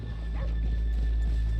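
Horses in the Red Dead Redemption 2 video game, with a whinny and a few hoof clops over a steady low ambient rumble, with faint voices nearby.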